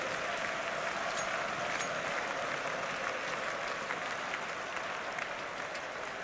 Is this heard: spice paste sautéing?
no